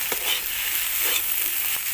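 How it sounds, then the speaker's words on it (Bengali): Cabbage filling for patisapta pitha, seasoned with salt, being mixed in a pan: a steady close sizzle with a few soft scraping strokes of the spatula, and no voices. "সব কিছু আবারও আমি খুব ভালোভাবে মিশিয়ে নেব"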